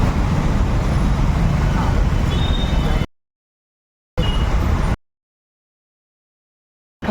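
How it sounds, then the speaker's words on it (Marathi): Heavy road traffic on the way to Latur makes a dense, continuous engine rumble and roadway noise, heard from a delivery scooter. The sound comes in short stretches broken by complete silences. "बघ किती ट्रॅफिक आहे."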